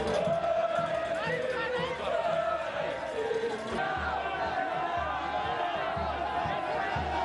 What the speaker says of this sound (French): Il sort enfin de l'aéroport de Bipemba où l'attendent des milliers des Est-Kassaïens pour une